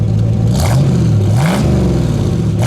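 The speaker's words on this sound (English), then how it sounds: "Go ahead, give it a rev." A 1971 Ford Mustang Mach 1 with a 351 Ram Air V8 and a larger-than-stock exhaust pipe is revved three times over a rumbling idle. Each blip rises and falls sharply, and no one speaks.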